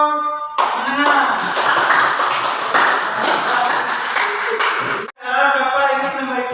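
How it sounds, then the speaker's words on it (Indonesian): A class of students breaks into several seconds of dense, steady clapping for the intermediate group, ending abruptly, with a teacher's voice heard briefly before and after. "berikan tepuk tangan untuk kelompok menengah"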